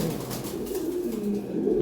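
Low, soft cooing of Giribaz pigeons, continuous and close, with a faint rustling background and no talking.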